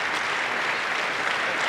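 A badminton arena crowd at the 2015 All England quarterfinal applauds steadily for the injured Ratchanok Intanon, a dense, even wash of clapping from many hands throughout.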